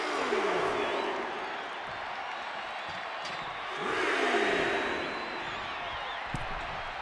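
A WWE 2K26 wrestling arena crowd cheers and roars in a steady wash, swelling louder partway through, with a sharp slam near the end.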